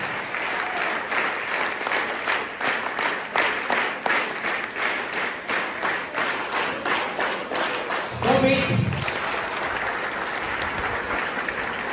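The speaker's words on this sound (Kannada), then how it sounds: "kindly give your big hands to NSS ಚಪ್ಪಾಳೆ" An audience doing the NSS clap, a rhythmic group clapping pattern with steady, evenly spaced claps from many hands, fairly loud, broken near the end by a brief louder burst and a voice.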